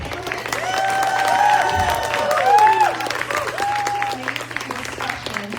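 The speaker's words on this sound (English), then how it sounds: "Can we just get another humongous round of applause for the panelists?" Applause from an audience for the panelists at a low-waste living panel discussion, a dense, sustained clapping from a crowd that swells around the middle and then eases off.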